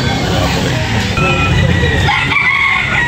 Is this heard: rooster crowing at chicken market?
yes